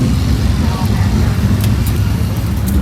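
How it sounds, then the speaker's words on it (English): Sprint car engines roar at Hattiesburg Speedway as a continuous heavy, low rumble that sounds fairly close and loud, with a crowd murmuring beneath it. "I believe I hear the sprint cars out there right now"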